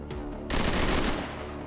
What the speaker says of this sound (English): we have sustained fire, so we can reload after shooting